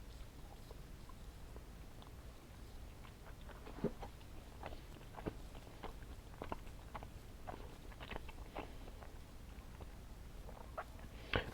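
Close, quiet chewing of peanut gummies comes through as soft wet clicks and smacking bites at an irregular rhythm over a low hiss, with no talking.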